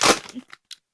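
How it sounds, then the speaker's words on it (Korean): Plastic vinyl packaging being torn open, with a loud crinkling rip at the start that tapers into a few brief, softer crackles and one last short rustle, close up and with no talking. "비닐 소리 양해 부탁드립니다."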